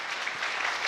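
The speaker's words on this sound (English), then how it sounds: "Kindly clap." Audience applause at a strategic plan launch event: a dense, steady wash of many hands clapping at close range for just under a second.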